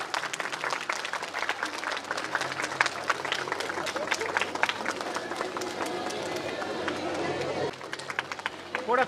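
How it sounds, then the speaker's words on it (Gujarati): A crowd at a district youth festival and children's talent show bursts into loud, sustained applause, a thick rapid clatter of many hands with faint chatter underneath, thinning near the end before a final flurry. "જોરદાર તાળીઓ થઈ જાય એકવાર"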